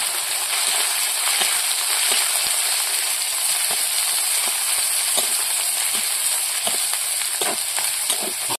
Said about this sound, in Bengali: মশলাটা কষা হয়ে গেছে, এবার হলুদ আর লবণ দিয়ে দেবো।